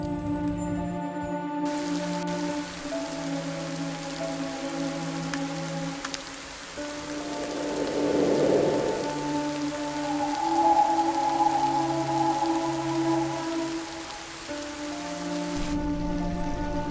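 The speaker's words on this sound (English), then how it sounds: "Has the rain stopped?" Steady rain patters over a farm scene in a mystery detective adventure game, a continuous hiss of drops beneath tonal background music, with a brief swell of heavier splashing midway.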